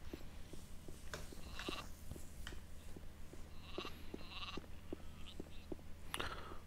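Sheep bleat in the video game Gothic 2, with soft, quiet cries over a hushed ambient background and light ticking sounds.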